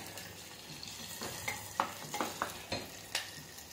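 Ingredients for matki khichdi fry and get stirred in a pan until browned, a quiet steady sizzle broken by several sharp scraping stirs close by.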